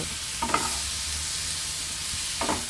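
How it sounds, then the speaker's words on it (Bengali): Apple pieces with salt and turmeric stirred in a pan for a chutney, a continuous soft sizzle with two brief scraping stirs of the spoon against the pan. "তারপর অ্যাড করে দেব অল্প করে হলুদ তারপর ভালোভাবে নুন আর হলুদের সাহায্যে নেড়ে চেড়ে নেব"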